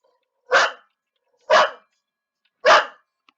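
Sophie the dog barks three times, sharp single woofs spaced about a second apart, close and clear against a quiet background.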